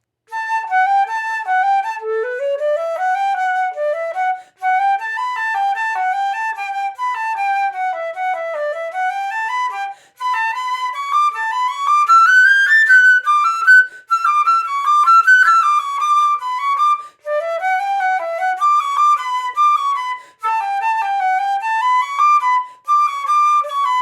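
A solo flute plays Pachelbel's Canon, a flowing, stately melody with smooth stepwise runs, clear and bright, with only brief pauses for breath.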